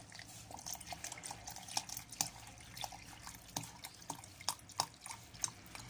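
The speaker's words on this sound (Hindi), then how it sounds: "और अब इसमें हम ठंडा पानी डालेंगे।" Cold water trickles and drips into falsa juice in a container, a soft irregular patter of splashes, close but quiet.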